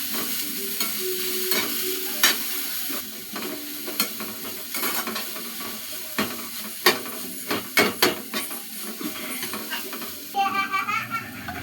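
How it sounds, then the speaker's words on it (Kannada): Onions sizzle in a hot, dry pan with no oil, a steady frying hiss punctuated by sharp clinks and scrapes of a spatula stirring, with faint voices in the background. "ಪ್ಯಾನ್ ಬಿಸಿಯಾಗಿದೆ. ಇವಾಗ ಈರುಳ್ಳಿ ಹಾಕ್ತಾಯಿದ್ದೀನಿ."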